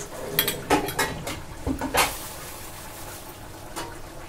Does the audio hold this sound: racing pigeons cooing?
no